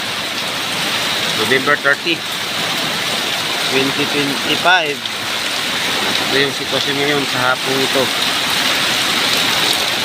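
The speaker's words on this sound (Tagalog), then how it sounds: "So, sa hapong ito, malakas ng hangin, ulan dito." Heavy rain driven by strong wind pours down steadily around an outdoor parking area, a dense continuous hiss, while someone speaks over it throughout.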